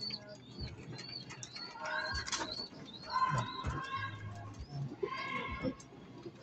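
Pigeons coo softly in short repeated phrases at close range beside their loft, while other bird calls chirp over the top and low murmurs rise and fall underneath.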